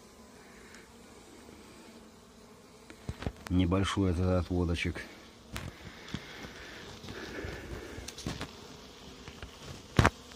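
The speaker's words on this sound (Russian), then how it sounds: "тоже пчелки вышли на облет" Honeybees fly out of eight-frame hives on a cleansing flight in an apiary, a faint buzzing hum with occasional louder passes near the microphone, while someone speaks briefly partway through.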